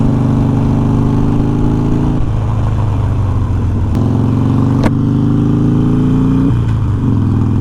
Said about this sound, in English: obviously the Evolution engine has that very distinct rumble, very distinct growl